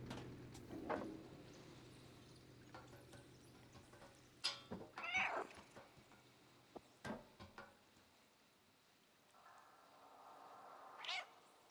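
The cat in the video game Stray gives a few faint meows between soft scuffs and clatters, with a brief louder cry near the middle and a quiet electronic tone toward the end.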